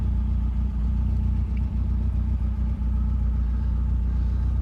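Classic Rover Mini engine idling at around 1000 RPM once warmed up, a steady low throbbing rumble that stays even and continuous, close up with no voices.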